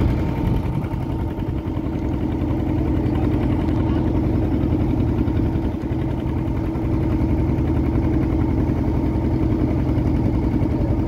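A boat engine runs steadily on a river crossing in the Sundarbans area, a loud, continuous mid-pitched drone with vibration throughout and no breaks.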